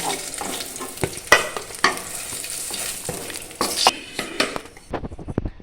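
Eggplant and bitter gourd pieces frying in oil for a Bengali shukto, with a steady close sizzle and repeated scrapes and clinks of a spatula against the pan.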